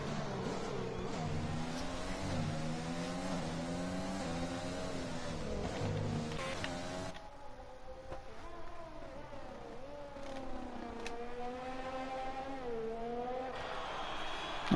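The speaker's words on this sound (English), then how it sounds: "here comes Tang going around the final turn now and goes across the line for P1" An F1 race car in an esports F1 game at the Hungarian Grand Prix drives through the final turn and crosses the finish line. The engine whines steadily, pitch rising and falling through gear changes, then dips briefly and climbs again.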